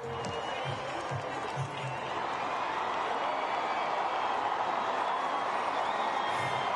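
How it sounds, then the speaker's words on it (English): A large crowd roars and applauds without pause at the Olympic flame's arrival at the Vieux Port in Marseille, a dense, steady wash of cheering and clapping. "Listen to the crowd."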